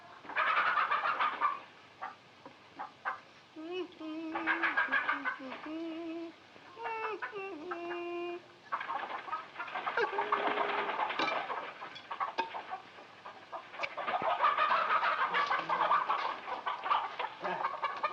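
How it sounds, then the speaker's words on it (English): Chickens clucking and squawking close by, a busy flock of overlapping calls with a few sustained, warbling cries mixed in. "Well, feed the chickens."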